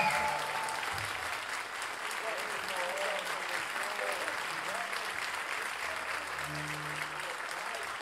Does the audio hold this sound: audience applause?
yes